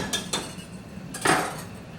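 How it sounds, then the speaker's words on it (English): A spoon stirring chicken curry casserole in a pot that is coming to a boil, giving a few sharp metallic clinks in two quick pairs over a quiet background. "So it's coming to a boil around the edges. So I'll stir it."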